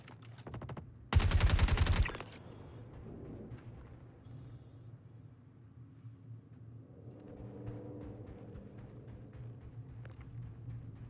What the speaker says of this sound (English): Is he really shooting at me?